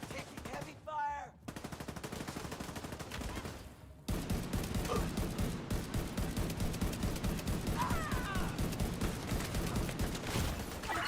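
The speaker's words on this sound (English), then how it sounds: "Taking heavy fire!" Heavy, sustained rapid gunfire in a video game, a dense rattle of shots that grows louder and continuous after a brief lull, with faint voices beneath.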